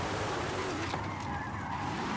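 A car drifting in Forza Horizon 5 using a manual gearbox with clutch, its engine roaring steadily with tire noise and a brief shift partway through, close and loud throughout.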